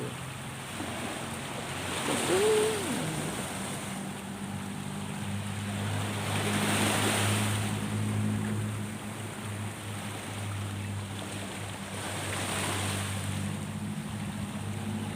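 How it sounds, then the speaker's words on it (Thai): Sea waves breaking on a beach at Sattahip, Thailand, with a broad rushing surf that swells and crashes roughly every five seconds under steady wind noise, and one brief exclamation from a person early on. "เสียงคลื่นน้ำทะเล"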